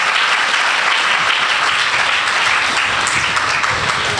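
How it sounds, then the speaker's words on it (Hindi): A congregation at a Christian sermon claps loudly and continuously, a thick, even wall of applause with no pauses. "तालियां सही तरह मारे।"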